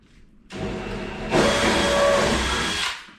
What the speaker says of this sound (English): So now we'll drill our through holes.